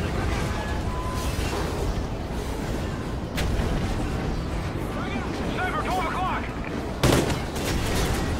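Gunfire rattles in the video game Call of Duty: Ghosts during a mission, with sustained bursts and a few sharp louder shots over a dense, rumbling background. Someone speaks intermittently.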